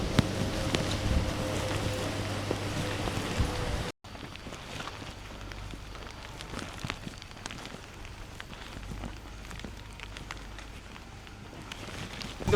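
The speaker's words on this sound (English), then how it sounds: "It's raining." Rain patters steadily on surfaces outdoors in Hoi An or Hue, Vietnam. The hiss is broad and moderate, with a brief cut partway through, and the rain carries on softer afterward.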